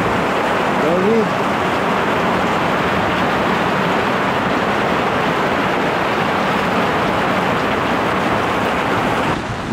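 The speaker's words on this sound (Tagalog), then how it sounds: "nagparamdam na ang malakas na ulan" A dense, loud wash of heavy rain pouring down steadily without a break at a campsite in La Paz, San Narciso, Zambales, with a brief voice near the start.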